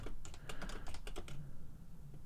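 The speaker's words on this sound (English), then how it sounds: "Just type it out again." Quick bursts of keystrokes on a computer keyboard, clustered clicks in the first half and then a quieter stretch, close and clear with no talking.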